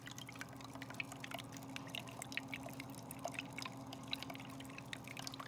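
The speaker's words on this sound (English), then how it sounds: "The only thing you're going to hear right now is the water trickling, and that's because I've got a good amount of water flowing down into this filter sock right now." Aquarium water trickling steadily down into a filter sock in a new Nuvo Fusion 25 Lagoon tank, a faint continuous splashing with small drips over a low pump hum.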